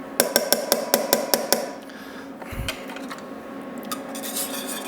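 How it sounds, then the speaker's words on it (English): An orange is zested on a microplane grater in a home kitchen: a quick run of about eight crisp rasping strokes, then a quieter stretch of faint scraping and background noise. "We could zest this whole orange, but I mean, I don't want to do the whole thing."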